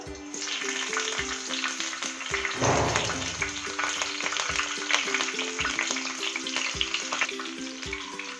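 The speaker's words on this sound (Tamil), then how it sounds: "இப்போ நம்ம கட் பண்ணி வச்சிருக்கிற கேப்சிகம் இதில் சேர்த்திக்கலாம்" Chopped capsicum frying in hot oil on a dosa pan, a steady close sizzle with a louder burst as the pieces go in, then ongoing crackle under a faint hum, no talk.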